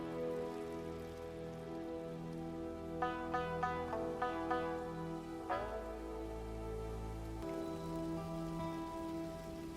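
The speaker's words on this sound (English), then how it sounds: "the rain dripping down here looks really good" Rain drips and patters steadily in the video game Ghost of Yotei, a soft continuous wash beneath sustained musical tones, with a few brief droplet ticks standing out midway.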